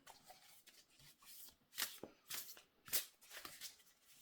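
A deck of tarot cards is shuffled by hand, giving a series of quick riffling bursts in uneven rhythm, close and soft against a quiet room with no talking.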